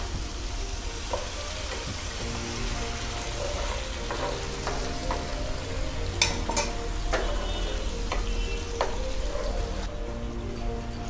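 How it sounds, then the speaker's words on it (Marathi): Spiced stuffed-brinjal gravy, thinned with water, bubbles and simmers in a pan with a steady hiss and scattered popping, plus a few faint utensil clinks; nearby and without talk. "आता हे छान उकळायला लागले."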